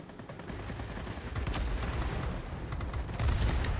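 Rapid bursts of aircraft machine-gun fire from the World of Warplanes XP-50 heavy fighter, a dense continuous rattle of rounds over engine drone, loud and sustained throughout.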